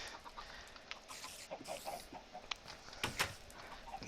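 Chickens in a Minecraft game give soft, scattered clucks over a low background, several short calls spaced irregularly and faint overall.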